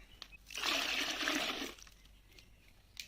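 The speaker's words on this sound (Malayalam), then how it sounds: "നമുക്ക് രണ്ട് ലിറ്റർ വെള്ളം കൂടി ഇതിലേക്ക് ആഡ് ചെയ്ത് കൊടുക്കാം" Two litres of water poured into a container of spray mix for feeding banana plants, a steady splashing gush lasting about a second, close and fairly loud, then fading to quiet.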